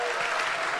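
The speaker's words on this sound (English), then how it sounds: "can we give a big round of applause for this team that does this whole program?" A conference audience at a startup event breaks into applause for the organizing team, giving a brief, dense burst of clapping that fills the hall.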